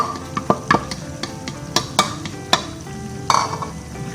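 Chicken filling with spring onion stir-fried in a pan, a soft continuous sizzle broken by repeated scraping clicks and taps of a spatula against the pan, fairly close.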